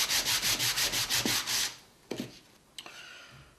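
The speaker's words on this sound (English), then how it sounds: "I'm just going to sand." A sanding block rubs across a wooden box in quick rhythmic strokes for a second and a half, then stops, followed by a couple of light knocks and handling sounds.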